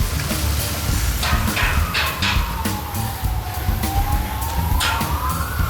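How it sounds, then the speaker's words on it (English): An emergency siren wails in the background with a slow rising and falling tone, steady and moderately distant, beneath outdoor ambience and rustling, with no talk. "Nice sirens in the background."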